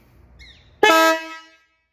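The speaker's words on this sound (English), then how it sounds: "Dual tone. Did you hear that?" A Motohorn 2.0 dual tone motorcycle horn gives one loud, close honk lasting under a second, preceded by a faint short whine.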